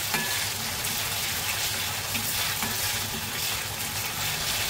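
Chillies fry in a pan, giving a loud, continuous crackling sizzle with dense spitting that holds steady from start to finish, with no voices.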